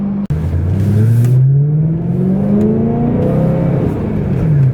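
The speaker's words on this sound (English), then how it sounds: "This V8 just sounds great." A BMW M3 V8 engine revs up through rising pitches, climbing and easing back repeatedly, loud and close with a throaty exhaust.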